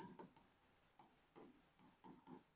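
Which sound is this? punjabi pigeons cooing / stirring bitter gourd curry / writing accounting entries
writing accounting entries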